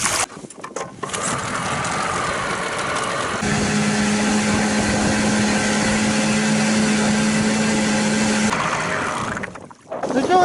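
An outboard boat motor runs steadily on a lake during a crucian carp fishing trip, a continuous droning whine holding level for several seconds before cutting off, with faint water and wind noise around it.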